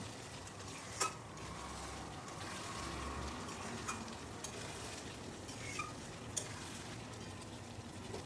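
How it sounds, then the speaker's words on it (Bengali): Chicken curry with gondhoraj lime being stirred in a pan after the lid comes off, a steady low sizzle with occasional scraping clinks of the spoon, close and continuous with no voices. "এখন খুব ভালো করে আবারও তলার থেকে নেড়ে চেড়ে দিতে হবে"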